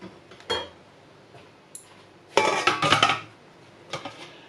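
Metal pot and dishes clatter as cooking water is drained from stuffed eggplant with pork, with a brief clank early, then a dense burst of clinking and scraping near the middle and a few lighter knocks after.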